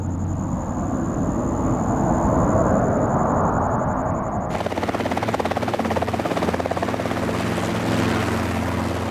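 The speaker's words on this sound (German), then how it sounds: "Seit über 30 Jahren treiben fast alle Züchter ihre Herden mit Helikoptern und Jeeps zusammen." A helicopter mustering cattle in the Australian outback drones steadily and loudly throughout, its rotor throb and engine hum continuous, with the tone shifting halfway as a high whine drops out and a rougher pulsing takes over.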